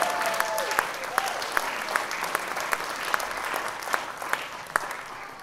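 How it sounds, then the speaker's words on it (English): Scattered clapping rises from the audience at an electronic music concert at the College of San Mateo, a moderate, steady patter with a few sharp individual claps standing out, fairly close and alone. "Another round of applause to Tom and his brother Ben Yannick."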